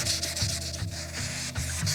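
Close, steady rubbing of 2000 grit sandpaper across a plastic car headlight lens, a continuous scratchy swish with rhythmic back-and-forth strokes and no talk.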